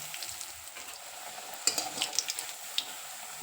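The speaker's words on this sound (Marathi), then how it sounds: "आता तोपर्यंत मी ह्या एका वडीचं तळून घेते" Coriander vadi frying in hot oil makes a steady, fairly quiet sizzle. A few sharper crackles and pops come through near the middle and toward the end.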